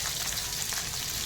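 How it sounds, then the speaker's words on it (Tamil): Onions sauté in a pan, hissing and sizzling steadily up close for a brief moment, with no voices. "தேவையான அளவு வெங்காயம் போட்டுருவோம். நல்லா வதங்கட்டும்."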